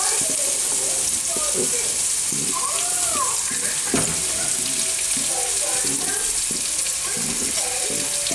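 Vegetables sautéing in a wok give a steady, close sizzle that runs through the whole stretch, with faint voices and kitchen clatter mixed in underneath.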